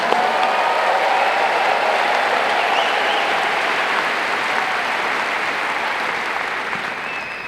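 A large crowd claps and cheers for Florida State University graduates at a spring commencement ceremony, a sustained, loud, even roar of applause that eases slightly toward the end.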